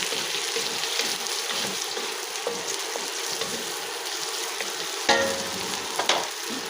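Spaghetti sauce ingredients frying in a home kitchen pan, a steady close crackling sizzle throughout with a few stirring clinks and scrapes near the end.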